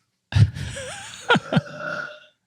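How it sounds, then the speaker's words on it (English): A single loud, drawn-out burp rumbles up close, followed by a couple of short throaty grunts. "Oh, I need a burp."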